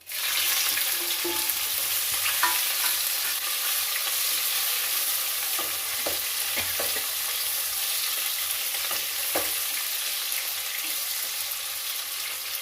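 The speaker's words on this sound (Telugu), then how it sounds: "ఇప్పుడు కాకరకాయ ముక్కలు వేస్తున్నానండి" Bitter gourd pieces fry in a hot pan with a steady, loud sizzle that holds throughout, with occasional soft stirring clicks and no voices.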